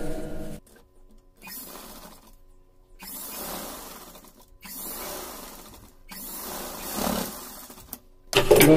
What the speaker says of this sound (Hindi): तो दोस्तों इसमें यहाँ एक सिलाई यहाँ लगाते हैं।